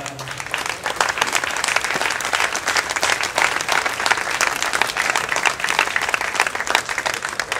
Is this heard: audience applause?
yes